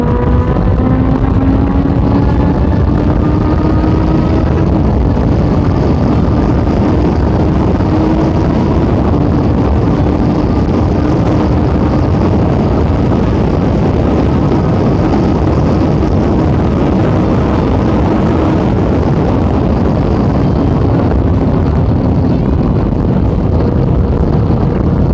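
Honda CBF600S motorcycle ridden at top speed, a constant loud engine drone with a rising pitch buried under heavy wind rush against the microphone, steady throughout.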